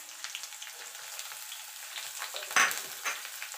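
Chopped onion frying in oil in a pan for ridge gourd paste (jhinge bata) gives a steady close sizzle, broken by scraping stirs and one sharper clatter midway.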